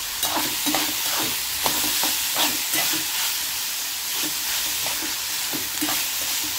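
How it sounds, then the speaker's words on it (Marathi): Chopped onion fries in a pan with cumin, mustard seeds and salt, a steady close sizzle broken by rhythmic scrapes and clicks of stirring, with no voices. "मी जिरे, मोहरी आणि कांदा टाकला, त्याला हलवलं आणि मीठ टाकलं।"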